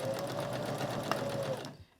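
A sewing machine stitching a fabric lanyard in a steady, rapid whirring run that stops abruptly near the end, heard close and alone.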